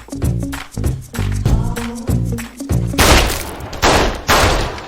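Gunshots from the 2024 action film Gunner, a rapid string of loud, punchy blasts with booming thuds, turning into a dense roaring burst of fire in the final seconds, with no talking.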